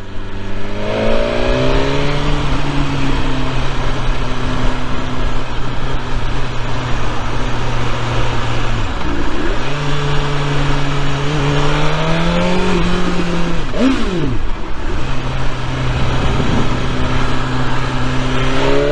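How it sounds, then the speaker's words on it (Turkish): A BMW S1000R sport motorcycle engine revs hard and repeatedly, the exhaust pitch climbing and dropping through gear changes, loud and close throughout. "Egzoz efsane. Hani sade egzoz mu abi, motor da efsane ya"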